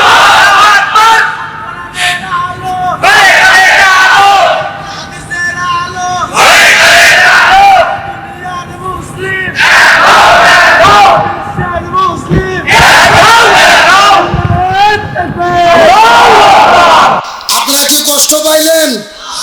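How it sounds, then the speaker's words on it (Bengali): A huge crowd at an Islamic religious gathering roars takbir and slogans in repeated loud call-and-response waves, each burst of massed voices swelling and fading in rhythm, with a single leader's voice between them. "ভালো করে একজন তাকবীর দেন দেখি, দেন একজন স্লোগান দেন দেখি।"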